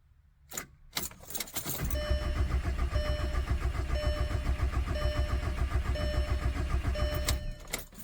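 A Volkswagen Jetta TDI diesel cranks after a fuel filter change, with a few sharp clicks and key jangles first, then a loud, steady, close engine drone that runs for several seconds before cutting off.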